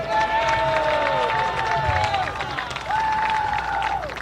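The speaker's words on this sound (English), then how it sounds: "Once again, a round of applause for Tanner Ono." A crowd gives sustained applause and cheering for football player Tanner Ono at a Lewis & Clark Pioneers football event, with steady clapping, raised whoops, and shouts rising and falling throughout.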